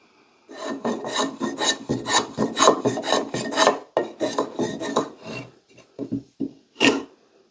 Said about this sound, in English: So I'm trying to just chamfer that edge so this sits in there